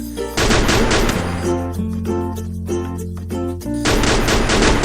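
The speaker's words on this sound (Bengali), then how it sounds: "উপরে একটা এনিমি ফায়ার করতেছে ওই যে টাওয়ারের ওখানে এনিমিটা" Enemy gunfire from a tower in a Free Fire game: loud, sustained rapid automatic shooting that breaks off into scattered shots midway, then resumes as heavy continuous fire.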